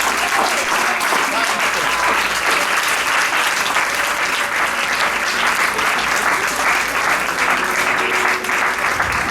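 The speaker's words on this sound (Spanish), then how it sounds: "Un aplauso." Loud, continuous applause from a large crowd at a religious gathering, dense clapping that holds steady for several seconds with a faint murmur of voices underneath.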